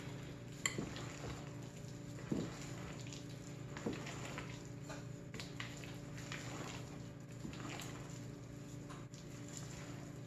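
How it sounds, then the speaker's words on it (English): A spoon scrapes and knocks steadily against a bowl as banana bread batter is mixed with chocolate chips and flour, with a few sharper taps and faint kitchen hum underneath. "that's when I'm going to add these chocolate chips in. Flour and all. And just finish the mixing."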